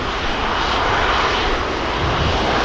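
Airliner engines at Manchester Airport as the jet slowly taxis toward runway 23 left, a steady, loud broadband roar with a low rumble that holds evenly throughout, no voices.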